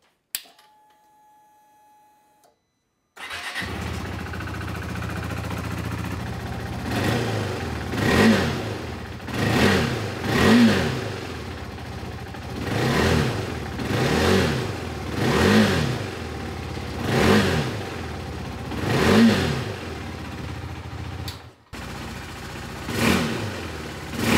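A KTM RC 390 motorcycle with a newly installed aftermarket exhaust starts up after a few quiet seconds, then idles with a steady rumble broken by about eight sharp, evenly spaced throttle revs, close and loud.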